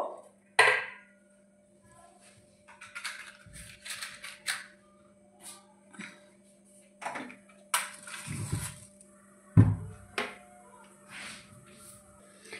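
Pots and dishes clatter in a home kitchen while curry is reheated: scattered knocks and clinks, a few sharp louder bangs, spaced irregularly over a steady low hum, with no talking.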